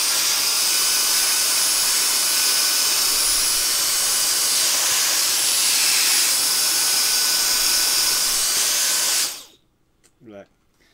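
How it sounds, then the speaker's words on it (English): A loud, steady roaring whine of a vacuum cleaner running close by, then it cuts off abruptly and a voice follows. "this is a vacuum cleaner. And it ain't quiet"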